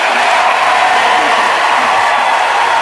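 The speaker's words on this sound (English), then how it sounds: "The crowd's going wild." A live show audience cheers and applauds at full volume, a dense continuous wash of clapping and crowd noise with no pauses throughout.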